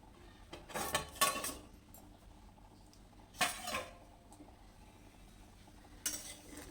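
A pan lid comes off and a spoon stirs fried aubergine, with a few short bursts of scraping and clattering against the pan separated by quiet gaps, close and moderately loud over a faint background.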